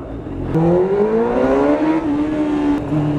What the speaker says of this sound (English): And with that loud burst of exhaust